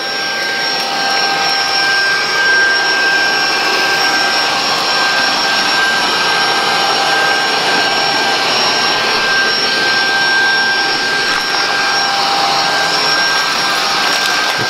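A robot vacuum cleaner keeps vacuuming, a steady close whirring motor hum with a high whine that stays constant and unbroken, alone without any talk.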